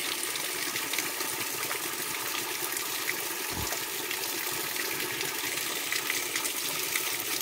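Water gushing steadily from a mountain spring spout near a village temple in Uttarakhand, a constant close splashing flow with one dull thump midway.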